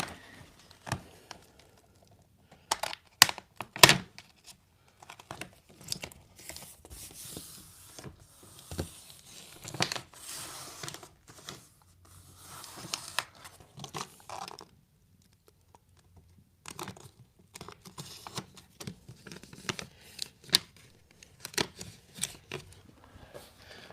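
A knife slices leather vinyl wrap on a gun safe, with faint, scattered scraping and ticking cuts and soft handling rustles spread over a quiet stretch.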